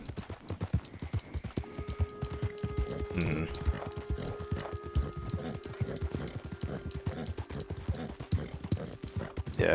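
Rapid, rhythmic hoofbeats of a galloping horse in Red Dead Redemption 2, close and steady throughout, with faint electronic tones in the background.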